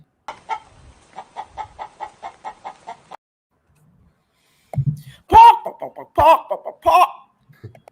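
A voice imitates a chicken's clucking with a quick run of short, evenly spaced clucks, then a few louder, choppier vocal bursts.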